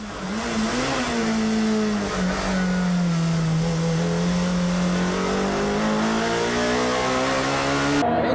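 A tuned race car engine revving on a track, loud and close, holding a sustained strained drone that dips and then climbs steadily in pitch over several seconds, with no talking.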